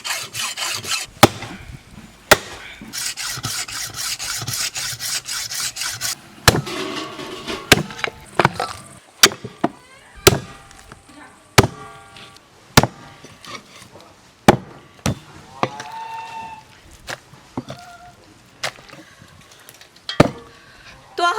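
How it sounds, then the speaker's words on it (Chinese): Hard beef leg bones are sawn and chopped in a home kitchen: a brief rasp of sawing, then a long series of loud, sharp cleaver chops at uneven intervals, each ringing with a short woody crack. "牛棒骨有点硬，刀子进不上，拿锯子往开锯一下就剁开了。"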